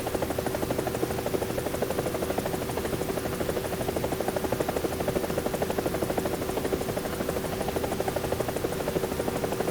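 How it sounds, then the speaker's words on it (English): Helicopter landing in the War Thunder video game, a steady loud rotor drone with rapid regular blade chop and engine whine throughout, alone with no voices. "If you touch down too hard, then your helicopter is going to get damaged."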